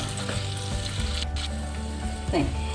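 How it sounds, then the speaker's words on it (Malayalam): Curry leaves fry in an old, years-used clay pot with a steady close sizzle and crackle, plus a brief stirring scrape near the end. "കറിവേപ്പില ഇതിട്ട് ഒന്ന് വാടി വരട്ടെ"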